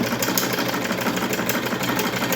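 A treadle sewing machine runs steadily while stitching, giving a continuous close whirring and rattling with a fast mechanical rhythm throughout.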